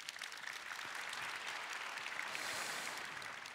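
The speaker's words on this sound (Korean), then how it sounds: "다시 한번 큰 박수 부탁드립니다" Audience applauding speakers at a forum after a talk, a dense, steady wash of clapping that holds even throughout, moderately distant.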